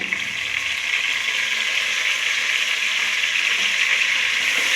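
Ginger garlic paste and mint frying in a pan over a low flame for biryani rice, a steady, even sizzle that holds close and moderately loud throughout with no voices.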